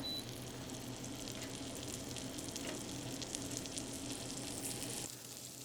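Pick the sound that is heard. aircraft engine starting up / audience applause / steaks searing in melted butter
steaks searing in melted butter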